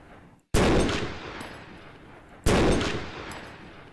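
Two loud, close gunshots in a combat video game, fired at a tank's gunner near a fort in a swamp area, each a sharp blast with a long decaying echo, about two seconds apart.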